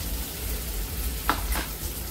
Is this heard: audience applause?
no